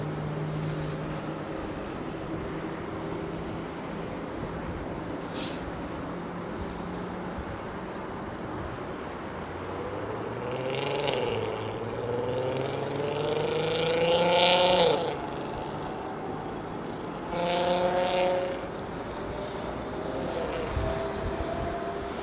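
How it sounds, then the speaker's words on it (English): An Airbus A380 jet engine starts up at Heathrow Airport, heard from a distance as a quiet rising turbine whine that sweeps upward in pitch. The whine swells over several seconds above a low background rumble of airport noise. "you could hear the A380 engine starting there"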